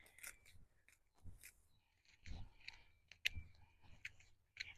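Garden shears cutting back a sprawling thyme plant outdoors: scattered crisp snips and clicks with rustling stems, close but quiet, irregular in timing.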